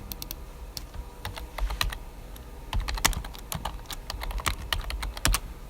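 Keys clatter on a computer keyboard in irregular bursts of typing, close and clear, with short pauses between runs of keystrokes and no talking.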